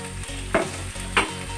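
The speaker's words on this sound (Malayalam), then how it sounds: "ഇത് ചൂടായ എണ്ണയിലോട്ട് സവാള, പച്ചമുളക്, വെളുത്തുള്ളി, ഇഞ്ചി, വേപ്പില ഇത്ര ചേർത്ത് കൊടുക്കാം" Onion, green chili, garlic, ginger and curry leaves dropped into hot oil for a mussel curry, giving a loud close sizzle with two sharp stirring scrapes of a spoon against the pan.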